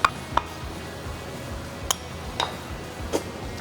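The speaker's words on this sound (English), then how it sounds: "And now we stir in a healthy knob of butter." Butter is being stirred into a mustard sauce in a pan, with a few sharp, sparse clinks of a utensil against the pan over a quiet background and no talking.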